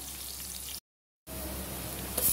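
Finely chopped onions frying in hot oil give a soft, steady sizzling hiss, briefly cut to silence partway through before the sizzle resumes.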